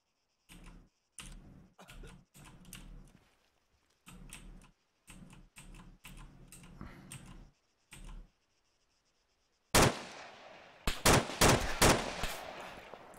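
Gunfire in a battle royale video game: a long run of sharp single shots at an even pace, then a louder, brighter burst of rapid heavy shots near the end, with no talking.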